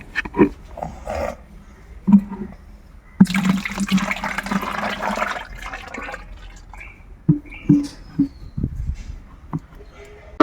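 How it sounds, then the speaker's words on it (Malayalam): Five litres of water pour steadily into a container of kitchen soap mix for a few seconds, a rushing splash under intermittent nearby talking. "ഇനി ഇതിലേക്ക് അഞ്ച് ലിറ്റർ ഒഴിക്കണം അഞ്ച് ലിറ്റർ വെള്ളം കൂടി ഇനി ഇതിനകത്ത് ആഡ് ചെയ്യണം"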